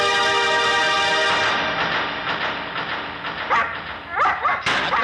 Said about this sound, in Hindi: फिर क्यों भौंक रहा है?